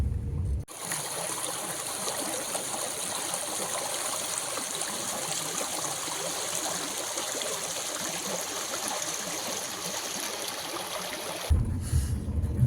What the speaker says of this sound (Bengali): কুলকুল কুলকুল আওয়াজ হচ্ছে নদীটা থেকে।